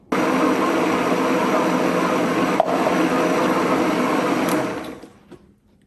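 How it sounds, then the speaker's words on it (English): Guava balsamic being whisked with grapeseed oil in a bowl, a steady, fast, close rattling whir of the whisk lasting about five seconds before it stops. "Give that a little mix up with a whisk"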